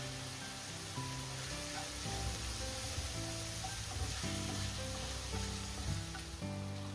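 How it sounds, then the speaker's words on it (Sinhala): Oil sizzles and crackles steadily in a pan as a pasta mixture is tempered with salt, crushed pepper and chili, a continuous close frying hiss. "මේ මිශ්‍රණයට රස අනුව ලුණු ටිකක් ගම්මිරිස් පොඩු කෑලි මිරිස් එකතු කරගෙන ටෙම්පරාදු"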